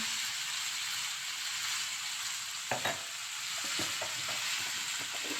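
Tomatoes and turmeric go into a pan, setting off a steady close sizzle of frying with a few sharp clinks and scrapes of stirring partway through and no voices.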